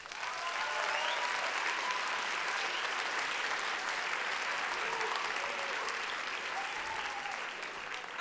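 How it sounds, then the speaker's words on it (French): A hall audience applauds the event organizers at a civic ceremony for new citizens in Geneva, producing a full, even roar of clapping that carries on uninterrupted throughout. "Je propose que vous les applaudissiez."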